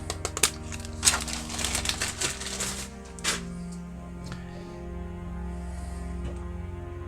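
Scissors cut a small piece from fine modelling mesh for an Ork buggy conversion, giving a quick burst of sharp snips and crinkles up close, then quieter handling.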